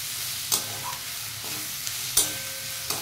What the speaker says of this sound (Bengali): এরপর এটাকে আমি আর একটু ভেজে নেব, আর এর মধ্যে দিয়ে দেব কাঁচা লঙ্কা